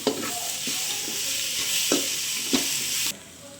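Shredded cabbage and carrot sauté for Sri Lankan kottu roti, a continuous sizzle with a few sharp scrapes of a spatula stirring the pan, then the sizzle cuts off abruptly.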